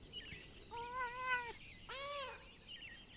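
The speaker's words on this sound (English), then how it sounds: "Oh, no little kitten." A kitten in the medieval video game Pentiment gives two drawn-out meows in quick succession, fairly close and clear, with no talking over them.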